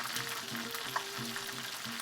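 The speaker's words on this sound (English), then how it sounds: "You're just kind of crisping the Modiga." A thin breaded mudica steak frying in a pan with garlic, cheese and parsley, crisping with a soft, steady sizzle and quiet crackles, heard at fairly low volume.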